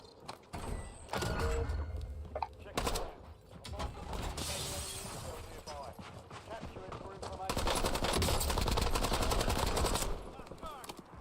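Gunfire in Warzone, rapid automatic bursts crackling loud and close amid a cluttered game soundscape, with a dense sustained stretch of shooting near the end and a voice talking over parts.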